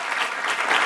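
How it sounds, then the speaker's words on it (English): An audience at a conference applauds with dense, continuous clapping that fills the room at steady volume throughout. "let's give a round of applause to Alf Lim"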